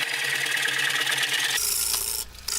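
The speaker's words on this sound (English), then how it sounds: "this is a 5/8 bowl gouge that I'm using" A 5/8 bowl gouge cutting a black walnut blank spinning on a lathe: a steady, loud, hissing scrape of steel on wood that shifts tone midway and tapers off near the end, with no talk.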